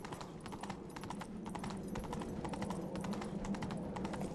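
In the video game The Witcher 3, a horse gallops with steady, rhythmic hoof beats at a moderate, even level, with no other prominent sounds.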